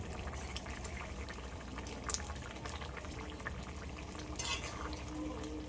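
Curry being stirred in a pot right after spice paste is added, with steady scraping and clinking of a spoon against metal over a continuous sizzling, bubbling bed, close and fairly busy throughout.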